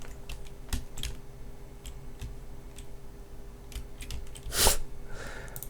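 Computer keyboard typed on in bursts of irregular keystrokes, close and fairly loud, with a sharper cluster of clacks near the end.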